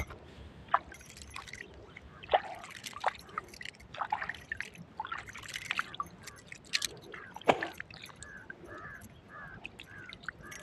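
Water dribbles and splashes in a farm field as hands are washed beside an irrigation flow for a sugarcane crop, soft irregular drips and trickles up close, with birds calling faintly around.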